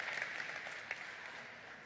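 A launch-event audience claps in a soft, steady patter that sounds distant and fairly faint throughout.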